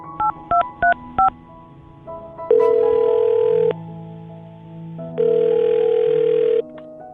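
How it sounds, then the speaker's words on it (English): A telephone number is dialed: four quick touch-tone beeps, then two long, steady ringback tones separated by a pause, clear and close with no talking. "I'll dial his phone number right now"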